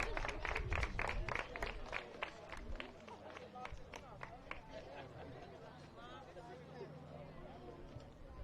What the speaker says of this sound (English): Let's have one more round of applause for our Bluefield College softball seniors.